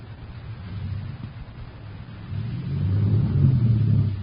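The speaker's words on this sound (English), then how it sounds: "Somebody backed a truck into our ship." A truck engine rumbles low and heavy as a sound effect in an old-time radio drama, swelling louder toward the end as if revving or drawing closer.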